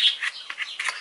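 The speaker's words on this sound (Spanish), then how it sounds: "Si escuchan mucho mis pajaritos," Small pet birds chirp and tweet indoors in a home room, several short, bright calls in quick succession, fairly close and alone with no talking.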